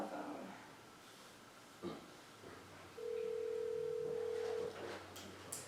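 Phone call placed during a board meeting, a single long steady ringback tone sounding for under two seconds, preceded by faint room noise and brief soft clicks.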